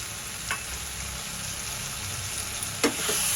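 Onion and tomato sautéing in a pan for dhaba-style paneer bhurji, with a steady sizzle and two distinct scraping strokes of a spatula; no speech.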